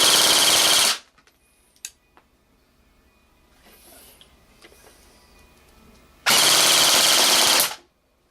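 A G&G AK-47 airsoft gun on a 7.4V LiPo fires two loud, rapid full-auto bursts of BBs, about a second at the start and another near the end, with quiet handling noises in between.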